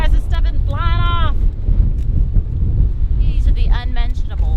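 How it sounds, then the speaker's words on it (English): Strong wind roars and buffets the microphone in a low, constant rumble outdoors on a sailing trip, with bursts of talk over it. "It's so windy."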